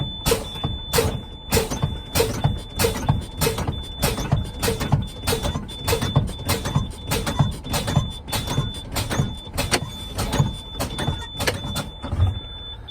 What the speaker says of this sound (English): I'm going to simulate this test by rapidly pressing the brake pedal to simulate rapid air loss